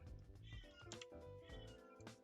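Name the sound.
cat meowing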